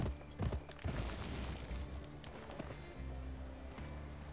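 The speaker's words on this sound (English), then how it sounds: "Let's ride, Clarice." Horse hooves pound in the video game Gun, a quick run of thudding clip-clop steps at the start, then a steady rumbling gallop that carries on at even loudness through the rest.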